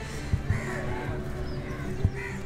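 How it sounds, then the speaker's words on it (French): Crows caw overhead in a quiet spot in Cochin, India, giving a few faint, scattered calls over a steady background hum of distant city noise. "Je pense que vous entendez les corbeaux au-dessus."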